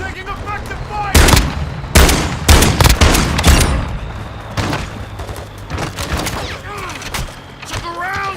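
Rapid gunfire in Call of Duty Warzone DMZ at Al Mazrah, with sharp repeated shots and bursts spread over several seconds and radio-style voice callouts in between.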